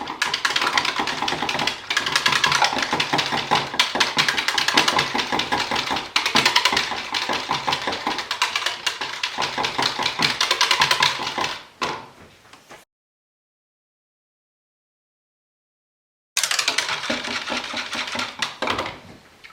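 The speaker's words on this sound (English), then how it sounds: "I'm going to whisk these for a while off camera." Cold process soap batter whisked by hand with clay colours, a dense, continuous rapid clatter that runs steadily for about twelve seconds, stops in silence, then resumes briefly near the end.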